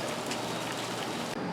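Steady rain pours down outside an open window, a dense, even patter of drops on surfaces that continues throughout at moderate loudness, with no speech.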